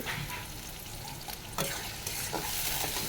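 Onion hits hot oil and fries with a dense, even sizzle and crackle that holds throughout, with a couple of louder stirring scrapes near the middle. It is close and continuous, with no talk.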